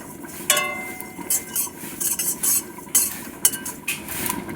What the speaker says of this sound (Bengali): কচুর শাকের জন্য একটা মশলা ভেজে নেব, চন্দনী আর নিয়েছি গোটা জিরে